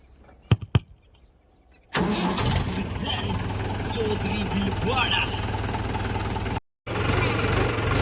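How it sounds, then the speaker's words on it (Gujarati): A tractor engine cranks and catches after a couple of sharp clicks, then settles into a loud, steady idle nearby, with a brief cutout before it resumes. "હાલો ભાઈ હવે આપણે ટ્રેક્ટર જો કે વહેતું કરશું"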